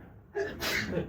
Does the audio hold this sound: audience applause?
no